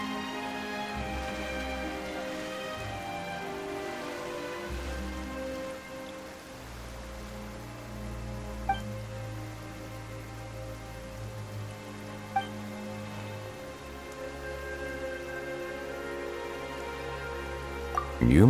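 Steady rainfall in the Genshin Impact video game, a continuous patter of drops on surfaces heard alone with some low musical tones beneath and a few louder drips.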